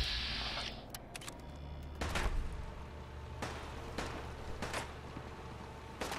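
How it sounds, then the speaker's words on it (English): Several sharp gunshot bursts crack at irregular intervals over a low electronic hum, gunfire in the game Fallout 4. "why are you shooting at us?"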